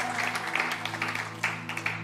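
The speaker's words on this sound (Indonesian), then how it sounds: "Berikan tepuk tangan buat Tuhan kita." A church congregation claps for God during a pastor's sermon, giving a dense, even patter of many hands at moderate distance over a low steady hum, with faint voices mixed in.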